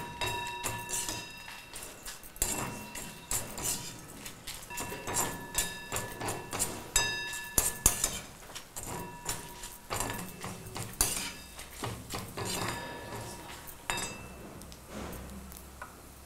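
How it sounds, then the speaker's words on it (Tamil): Coriander seeds and dried red chillies are dry roasted in a pan, giving a scattered run of light clinks and scraping taps from a spoon stirring against the metal, steady and close throughout. "தனியா, காய்ந்த மிளகாய் இதை போட்டு பொன்னிறமாக வறுக்க வேண்டும்."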